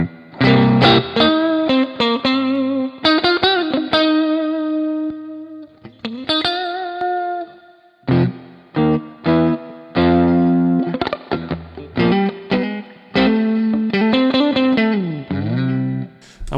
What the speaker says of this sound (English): Got a classic fuzz